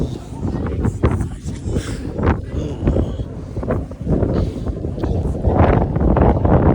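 Strong wind buffets a microphone outdoors at the Christ the King statue in Lisbon, a loud, gusty low roar rising and falling throughout and covering the whole scene.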